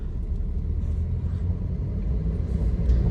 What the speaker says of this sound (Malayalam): പിന്നെ വീൽ ബാരിങ്ങിൻ്റെ ഒരു ചെറിയൊരു നോയ്സ് വരുന്നുണ്ട്.